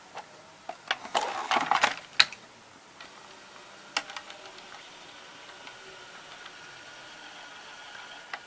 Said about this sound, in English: let's put the tape in